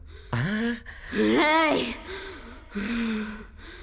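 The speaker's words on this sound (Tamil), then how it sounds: "ஏன் உனக்கு இப்படி மூச்சு வாங்குது?" A person in a comedy film scene pants and gasps heavily in several loud, voiced breaths with short pauses between them, close to the listener.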